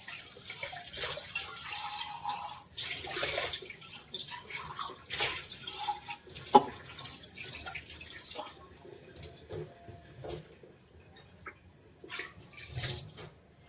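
Puja utensils are washed under a running tap at home, with water splashing and dripping, metal vessels clinking now and then, and pauses where the flow quiets, lasting several seconds.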